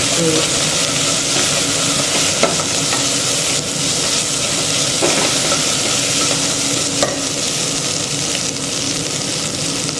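Steady sizzling and frying of tomatoes in a pan, with occasional scrapes of a stirring spoon, loud and close, no talking.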